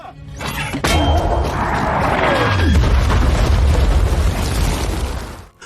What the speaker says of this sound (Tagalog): biglang sumabog ang isang shell